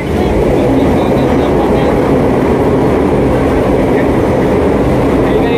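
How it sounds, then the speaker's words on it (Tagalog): A noisy LRT light rail train passes near Libertad market on a city street, producing a loud, continuous rumble and roar that fills the whole stretch without letting up. "Mahingay LRT."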